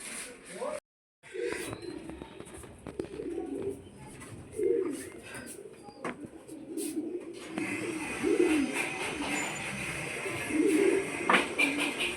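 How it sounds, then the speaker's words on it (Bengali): Pigeons coo on a rooftop in soft, repeated low throbbing calls at moderate distance, with breezy outdoor background noise and occasional brief knocks; a short dropout interrupts near the start. "ছাদে তো পায়রা আছে"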